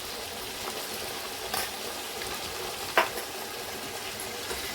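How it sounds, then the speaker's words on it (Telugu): Onions, tomato, ginger-garlic paste and green chilies fry in a pan for chicken biryani, giving a steady close sizzle with a couple of sharp stirring knocks and no talk. "ఈ టమాటీ అల్లం వెల్లుల్లి పేస్ట్ పచ్చిమిర్చి ముందు ఉల్లిపాయలు వేసుకున్నాం కదండి మరి ఇవన్నీ కూడా మరొకసారి బాగా వేగేంత వరకు వేద్దామండి"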